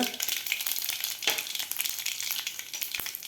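Asafoetida sizzles in hot oil with crackled mustard seeds for a masoor dal tempering, a brief, bright crackling hiss with quick pops and a stirring scrape, close and fairly loud.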